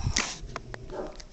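A dog gives a short, close bark or two, reacting to another dog nearby.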